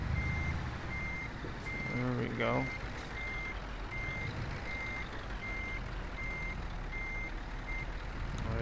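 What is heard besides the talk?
truck reversing beeps while parking, Euro Truck Simulator 2 video game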